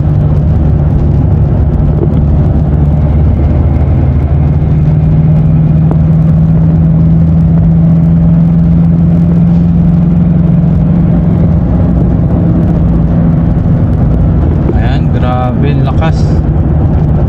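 A Foton Traveller with a 2.0 diesel engine cruises in sixth gear, a loud continuous low drone and road rumble filling the cabin, with someone talking over it throughout.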